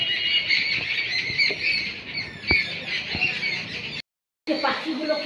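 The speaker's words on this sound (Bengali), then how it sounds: "পাখিগুলো কিচিরমিচির করেই যাচ্ছে" Birds squawk, squeal and chirp in a noisy morning squabble around a home, loud and close, with a rapid run of overlapping calls that briefly drops out before resuming.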